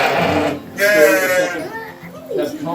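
Hair sheep on a pasture farm bleat loudly and close by, several wavering calls in a row, with a person talking over them.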